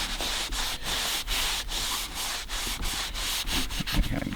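A rag rubs finish into a woodburned wooden fish sign in steady back-and-forth strokes, a close, repeated scrubbing swish with no talk.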